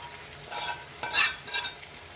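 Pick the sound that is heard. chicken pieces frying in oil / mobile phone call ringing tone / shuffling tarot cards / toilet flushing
chicken pieces frying in oil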